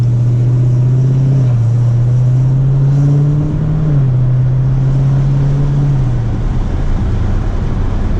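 A car cruising in its default driving mode gives a steady, loud engine drone that rises slightly in pitch and settles back, continuous road and motor noise with no one talking.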